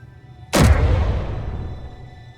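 A single heavy weapon volley fired in Space Engineers, with a sudden loud boom that rolls off into a long fading rumble over a faint background hum.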